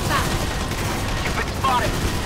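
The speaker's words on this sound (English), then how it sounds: "There's so many bullets." Gunfire from the Valkyria Chronicles 4 video game comes as dense, rapid volleys of shots layered over game background noise, continuing steadily with a few brighter zipping bullet sounds standing out.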